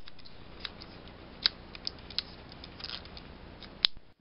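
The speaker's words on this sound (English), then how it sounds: "cut the remaining 6 pieces lengthwise on one side only" Scissors snip drinking straw pieces lengthwise along one side, a few crisp, sharp clicks spread irregularly over low background noise, close and fairly quiet.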